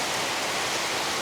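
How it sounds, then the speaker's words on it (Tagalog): Heavy rain pours steadily through the night on a small mini farm, a dense, even hiss with no distinct drops or voices. "Malakas na naman yung ulan."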